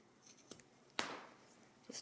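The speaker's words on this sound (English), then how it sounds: "Your scissors and just clip." Scissors snip fabric once sharply, with a couple of fainter clicks of the blades before and after; close and fairly quiet.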